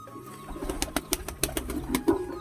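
Lotan pigeons make soft, low coos close by, mixed with quick bursts of fluttering wingbeats in an irregular rhythm.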